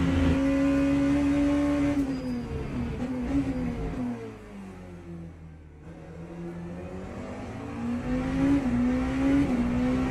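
Race car in the Le Mans Ultimate sim racing game, its engine droning steadily and rising and falling in pitch through gear changes and corners, loud and continuous with no talk.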